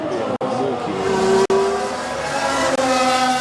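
Formula 1 race cars scream past at Monza during the 2016 Italian Grand Prix, a loud, high-revving engine whine with sharp gear-shift breaks and rising pitch as they power through.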